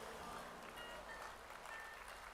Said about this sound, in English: Now, I know people are clapping